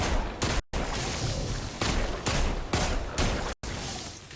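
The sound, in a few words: hand cannon gunfire with explosive payload, Destiny 2 video game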